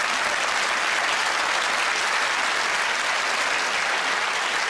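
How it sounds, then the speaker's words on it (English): Sustained, dense applause from a studio audience at a televised relationship quiz show, steady and loud throughout with no voices rising above it. "Round of applause, well done."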